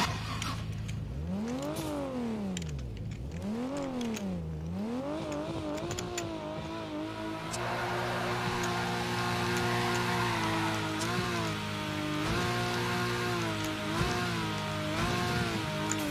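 A car drifting in the video game Torque Drift 2, engine revving up and down in sweeping waves before settling into a sustained high-rev drone with tire noise, moderately loud and steady.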